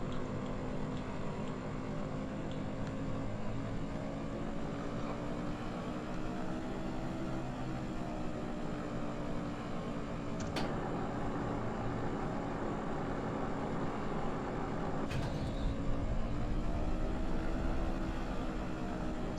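A model aircraft engine, a Le S40 preparing for flight, drones steadily with a sustained harmonic whine that gradually shifts pitch as the throttle is worked, broken by a couple of sharp clicks, with no talk.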